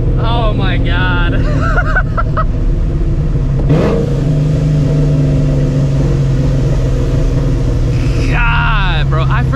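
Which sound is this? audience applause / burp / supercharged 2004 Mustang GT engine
supercharged 2004 Mustang GT engine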